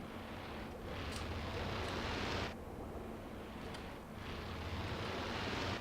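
Underwater bubbling ambience at a Minecraft ocean temple in the video game: a steady, dense watery hiss that runs continuously, with two short dips in level partway through.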